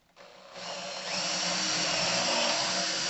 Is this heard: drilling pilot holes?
yes